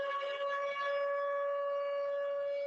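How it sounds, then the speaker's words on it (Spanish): Terrible sirens wail in a steady, unbroken tone heard from a distance, fairly faint but continuous and unwavering throughout, with no voices present. "Escuchen esas sirenas terribles"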